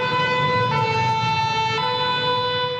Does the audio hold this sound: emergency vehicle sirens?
yes